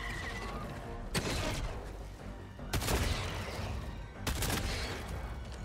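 Crossbow bolts are fired in the shooter game Helldivers 2, giving three sharp, booming shots spaced about a second and a half apart over a continuous bed of battle noise.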